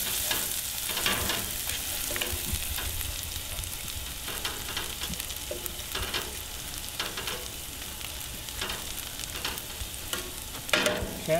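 Shallots sautéing in clarified butter, a continuous close frying sizzle with occasional sharper crackles and stirring sounds, with no voices.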